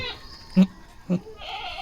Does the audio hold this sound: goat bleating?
yes